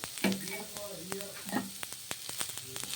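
Onion and four or five green chillies roasting in a pan give a steady close-up sizzle, broken by sharp stirring clicks and scrapes, with a voice speaking briefly over it.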